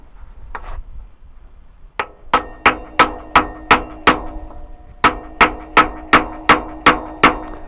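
Motorcycle wheel axle on a Suzuki GN250 struck with a piece of wood, a lone knock followed by two quick runs of sharp, evenly spaced wooden blows, about six and seven hits each, close and loud.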